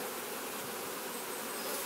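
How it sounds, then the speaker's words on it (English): Honey bees swarm over a hive frame, their dense, continuous buzzing loud and near, a steady droning hum with nothing else heard. "We have a frame of bees here."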